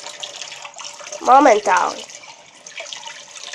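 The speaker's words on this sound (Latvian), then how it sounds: "Tuliņās es izliešu karstu ūdeni." Hot water poured over a mug, giving a steady soft splashing hiss that runs throughout, briefly covered by a man's short spoken word in the middle.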